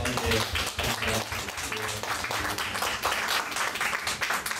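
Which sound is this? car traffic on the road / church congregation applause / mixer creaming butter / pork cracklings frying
church congregation applause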